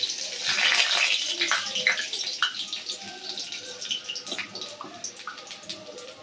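Garlic tempering dropped into hot oil, a loud crackling sizzle that bursts up at first and then settles into a steadier, fainter spitting hiss.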